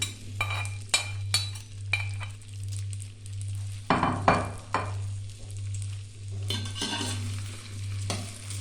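Okra frying in hot oil in a pan and being stirred, a steady close sizzle broken by repeated scraping strokes and light clinks of the spoon against the pan, with no speech.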